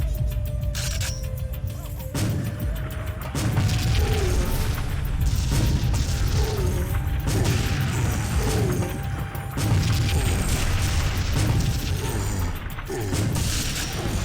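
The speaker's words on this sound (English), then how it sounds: "Got the grenade launcher." Heavy, continuous explosive booms and crashing debris from grenade launcher fire in TimeSplitters 2, a dense, loud roar of blasts layered over game noise with no clear gaps.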